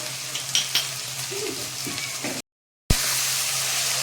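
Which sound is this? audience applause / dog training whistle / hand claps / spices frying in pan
spices frying in pan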